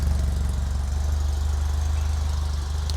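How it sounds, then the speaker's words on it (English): An Alfa Romeo 2.0L Twin Cam engine, freshly rebuilt and warming up, idles steadily with a low, even throb and a faint mechanical clatter, continuous and close with no speech. "Motor is still running. You can probably hear it in the background."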